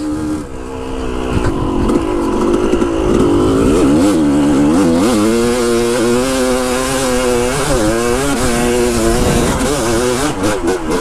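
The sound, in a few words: motorcycle engine revving with Lectron carburetor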